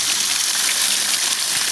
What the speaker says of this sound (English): the water is coming out